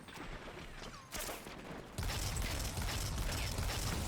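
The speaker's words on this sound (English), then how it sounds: "Why is there a Colossus just standing back there shooting the wall?" Gunfire from a Colossus enemy in Destiny 2 as it shoots a wall, a steady dense burst that swells louder about halfway through, mixed with mechanical game noise and no talk.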